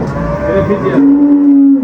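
A Holstein Friesian dairy cow, a first-calver at a dairy farm, gives a single sustained moo that rises into a steady drawn-out tone, loud and close, with no talking over it.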